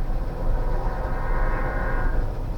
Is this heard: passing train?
yes